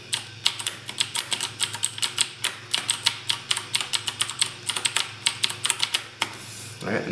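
Rapid bursts of crisp clicking keystrokes on a Das Keyboard Ultimate S mechanical keyboard, close and fairly quiet, in uneven typing runs with brief pauses between them.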